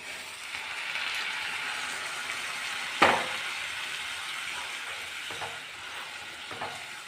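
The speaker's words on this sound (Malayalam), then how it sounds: "ഇനി നമുക്കിതിലേക്ക് തിളച്ച വെള്ളം ചേർത്ത് കൊടുക്കാം" Boiling water hits a sizzling masala roast in a hot pan, giving a sudden loud burst of hissing sizzle that slowly settles into softer frying with a few faint stirring clinks.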